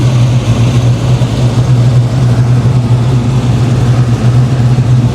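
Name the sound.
1987 Monte Carlo SS car engine running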